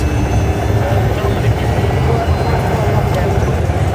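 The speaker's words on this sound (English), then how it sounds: "we're firing up our little bird here, and we're just going to take it up in the air" A Little Bird helicopter starting up and lifting off in the video game ARMA 3 makes a loud, steady engine and rotor drone that holds throughout.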